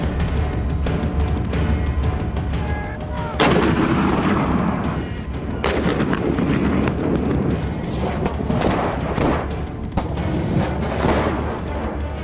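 K-9 Vajra self-propelled artillery guns firing in Ladakh, several heavy booming blasts spaced a few seconds apart over a dense, continuous roar, loud and close, with no talking.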